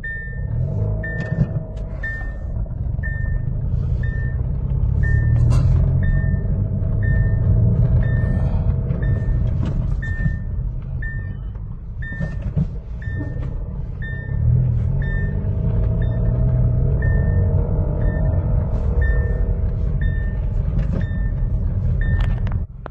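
A Hyundai Accent gasoline engine rumbles and revs as the car is driven, the engine note rising and falling over a steady, regularly repeating beep, with no voices.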